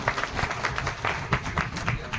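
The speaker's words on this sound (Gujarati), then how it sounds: "તો આપણે એને જોરદાર તાળીઓથી વધાવીશું." A crowd claps through a short burst of applause at a political gathering where a newly appointed district party president is addressing the audience. The clapping comes as rapid, moderately loud overlapping claps with some voices mixed in.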